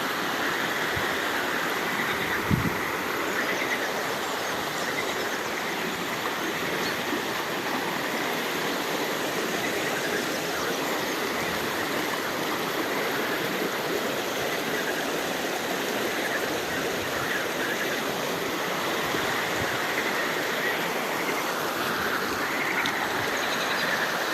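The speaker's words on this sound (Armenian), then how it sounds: "Այս գետի ձայնը իսկապես հանգստացնում է մարդու նյարդային համակարգը" Continuous rushing of flowing river water, a loud, steady broadband roar without pause, close by and unbroken.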